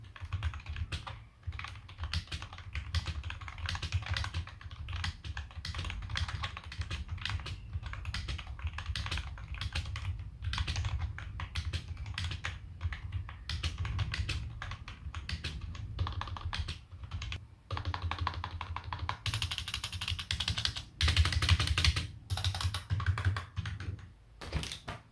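Typing on an S100 rubber dome keyboard from a budget keyboard and mouse combo: a continuous run of soft, muffled key taps at a quick, uneven pace, close and fairly quiet, with a denser burst near the end.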